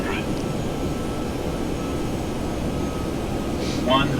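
An airliner lands in the X-Plane flight simulator game, a steady, loud engine roar that holds constant throughout, with a voice talking over it.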